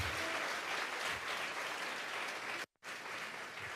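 A church congregation at a live Spanish-language service applauds in a dense, sustained wash of clapping that cuts out abruptly for a moment before resuming.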